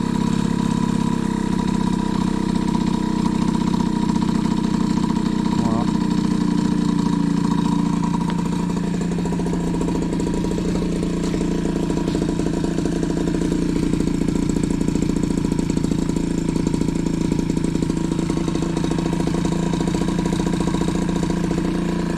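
A moped engine with an SHA carburettor and airbox idles steadily and close for about twenty seconds, a continuous buzzing drone with a slight shift in pitch partway through. No voices are heard.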